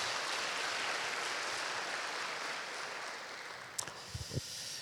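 A church congregation applauds at a Wednesday service, a dense, even wash of many hands that holds steady and then thins, with a few louder separate claps near the end.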